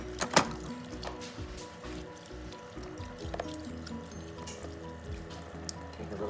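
Water runs steadily from the tap of a Spark Create Imagine toy kitchen sink, with soft splashes and drips over a continuous low trickle and a few louder clatters near the start.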